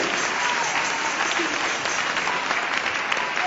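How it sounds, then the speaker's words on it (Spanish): A church congregation applauds in a steady, dense wash of clapping that holds evenly throughout, with no talk over it. "Dale ese aplauso a Jesús"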